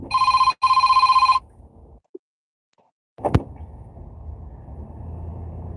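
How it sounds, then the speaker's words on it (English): A telephone bell rings loudly in two short bursts, then cuts off, followed by a click and a thud before quiet room noise with a faint hum. "The phone just rung."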